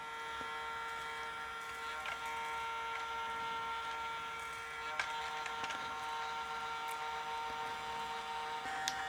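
A small working toy vacuum cleaner runs steadily on its quiet setting, a thin, even electric whine and buzz with faint clicks and rattles.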